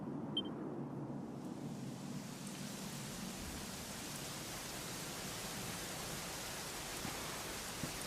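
Steady, dense rain hiss in the video game Dragon Quest XI: Echoes of an Elusive Age, even and continuous throughout with no talking.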